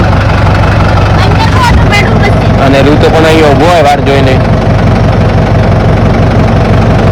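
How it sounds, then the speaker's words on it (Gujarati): A tractor engine idles loud and close with a steady low rumble, while someone talks over it. "ટ્રેક્ટર ચાલુ છે મસ્ત"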